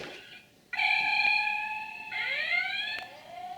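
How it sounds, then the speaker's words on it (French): An electronic alarm sounds from a Playmobil Star Trek starship toy in its engine room, with a loud sustained tone that changes pitch, then a rising sweep, and a faint click between. "Aïe, l'alarme retentit."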